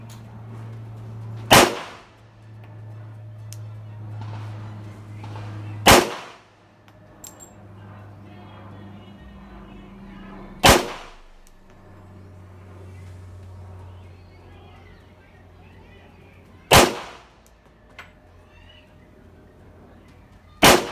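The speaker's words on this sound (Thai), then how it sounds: "ยิงครบนะครับห้านัดปลดแมกกาซีน เคลียร์ปืน" A Colt 1911 .45 Gold Cup National Match pistol fires five loud, sharp shots spaced a few seconds apart, each a sudden crack with a short decay, over low background hum at a shooting range.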